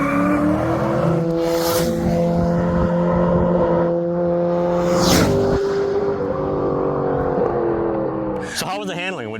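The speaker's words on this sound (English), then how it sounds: "This car with this motor makes every other Miata look slow." An LS7-swapped Mazda Miata roars around a track, its V8 holding a loud, steady drone with rising and falling pitch as it works through gears, under occasional talk.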